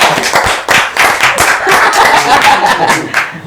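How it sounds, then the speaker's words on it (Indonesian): An audience applauds a young silat athlete and coach during a talk-show segment, a loud burst of dense, steady clapping close by, with chuckles and laughter mixed in throughout. "Tepuk tangan buat Bung Codot."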